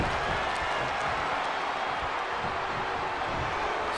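Arena crowd from WWE 2K20 during a title match, a steady broad roar of cheering and murmur that holds at a fairly even, moderate level without a clear peak.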